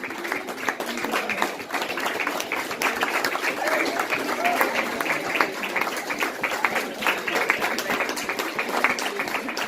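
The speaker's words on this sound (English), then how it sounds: "please applaud and celebrate our artists who have contributed this evening" An audience applauds artists at an exhibition and runway opening, a steady sustained wash of many hands clapping from a moderately distant crowd, with murmured voices underneath.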